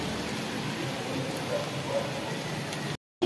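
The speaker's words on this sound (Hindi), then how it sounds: "लेकिन बहुत अभी बारिश चालू," Heavy rain falls steadily as a dense, continuous hiss during an evening thunderstorm on a dark road, filling the scene until it cuts out abruptly near the end.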